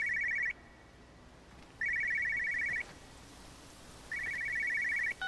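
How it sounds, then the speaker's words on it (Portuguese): An old telephone rings in the video game Everybody's Gone to the Rapture, sounding three clear, trilling bursts with long gaps between them over a steady ambient hiss. "Por que tem um telefone aqui no meio do nada sem energia?"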